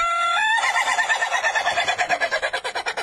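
A rooster crows loudly and close by, then gives a long run of rapid, rhythmic pulsing calls that fade slightly toward the end.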